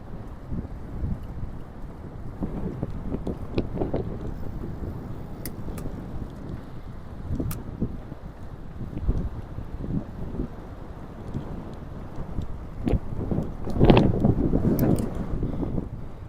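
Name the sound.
strong wind blowing outdoors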